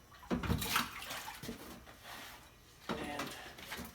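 A metal part swished in water after paint stripping: two close bursts of sloshing and splashing, the first longer and louder, separated by a quieter pause.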